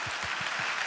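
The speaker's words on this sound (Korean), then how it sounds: "격려의 박수 부탁드릴게요" Applause for a child contestant eliminated at a church Bible recitation contest, a short burst of steady clapping from an audience with faint voices under it.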